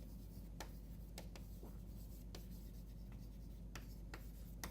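Chalk or marker strokes on a lecture-hall board during a physics lecture, a steady series of short scratchy taps and rubs at a moderate distance over a constant low room hum, with no speech.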